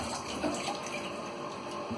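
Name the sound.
water running from tap with on-demand water heater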